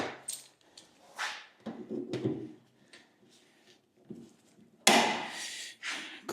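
Big metal clamps go onto the rear panel of a Land Rover Series 3 tub, a series of close clanks, knocks and scraping taps at irregular intervals, with a sharper loud clatter near the end.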